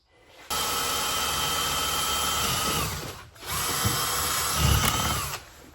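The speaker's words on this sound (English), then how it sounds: "I think I'm gonna drill through this rivet here." A power drill bores through a rivet on a knife with a deer antler handle: a loud, close, steady whine runs for several seconds, dips briefly, then resumes with heavier, rougher bite before stopping.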